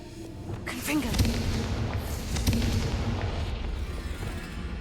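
The Confringo blasting spell fires in Hogwarts Legacy, with several sharp bursts and booms over continuous game sound, while a player speaks between the blasts.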